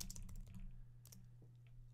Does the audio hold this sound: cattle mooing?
no